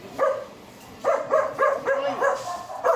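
Dogs bark in a quick series of sharp, mid-pitched yaps, one early bark followed by a tight cluster of four or five, fairly close and loud against a quiet outdoor background.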